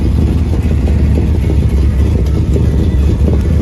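A loud, steady exhaust rumble from an idling muscle car engine, deep and continuous, close by with no talking.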